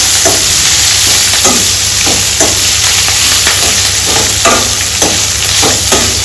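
Curry leaves drop into hot tempering oil for a Telangana-style tomato pappu and sizzle loudly and steadily, a constant crackling hiss punctuated by regular scraping stirs of a spoon in the pan.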